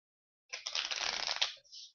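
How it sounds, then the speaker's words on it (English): Plastic playing cards from the Clever card game riffle-shuffled up close, a crisp, fast flutter lasting about a second before a short soft slide as the deck settles. "Good, crisp, easy shuffle."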